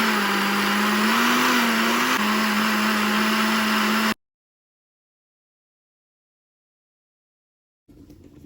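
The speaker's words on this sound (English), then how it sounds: "So I have to blend this a bit by bit." Electric blender blending spinach for Ghanaian spinach light soup, a loud steady whirring motor with a constant pitch that runs for about four seconds, stops dead into silence, then briefly starts again near the end.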